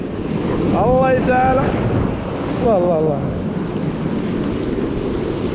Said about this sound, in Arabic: موج قاصد صراحه